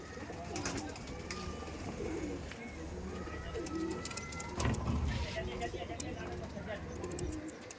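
Punjabi pigeons coo in soft, repeated throaty calls close by, mixed with someone talking over them and some faint background noise.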